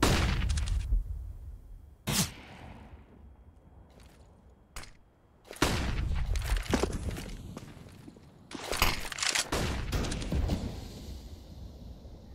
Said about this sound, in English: While this AWP has been firing off in mid